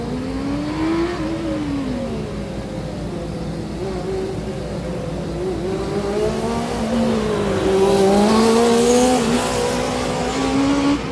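A student-built formula race car runs in an endurance event at the 2013 Japan Student Formula competition, its engine droning loud and steady with rising and falling pitch through slalom corners, no talk over it.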